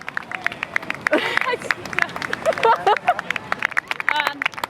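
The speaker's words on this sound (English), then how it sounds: "Everyone's clapping and we have no idea why." Crowd clapping in an airport terminal for a traveller, scattered hand claps mixed with chatter and excited voices nearby, people talking throughout.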